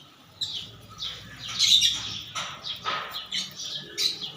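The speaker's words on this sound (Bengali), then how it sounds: "বোম্বাই, রেচার সব জাতের কবুতর আছে" A flock of kept pigeons of Huma, Giribaz, Bombay and racer breeds: scattered bird calls and squawks come and go in short bursts at moderate volume, over a faint background and with no voices.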